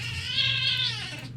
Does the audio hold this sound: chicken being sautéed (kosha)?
no